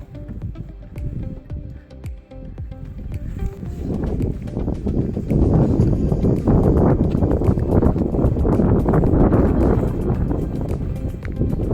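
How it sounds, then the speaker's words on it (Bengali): Strong wind sweeps across a mountain trek toward Dafeybhir La, a deep, buffeting roar that swells and stays heavy through the second half, with no voices. "প্রচণ্ড হাওয়া।"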